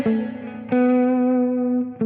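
Electric guitar through an OD1 overdrive with a DI blended in on a Quad Cortex, played as three sustained distorted chords with clear attacks and long ringing decay.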